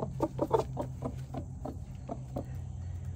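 A broody hen clucks in quick, low, throaty bursts, about eight in a row near the start, close by, then quieter clucking over faint background hum.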